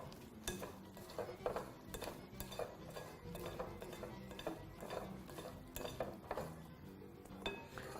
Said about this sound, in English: you can use a slotted spoon at this stage to toss all your ingredients in your bowl